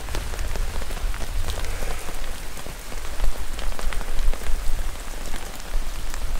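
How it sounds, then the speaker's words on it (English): Heavy rain drums steadily on a tent while wild camping, a dense continuous patter of drops with sharper individual hits scattered throughout, close and loud with no voices. "the rain we've had, it's just been just non-stop, absolutely non-stop"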